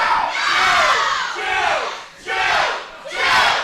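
Crowd at a ProSouth Wrestling event chanting for Joe, loud rhythmic shouts that rise and fall in repeated waves, close and filling the room.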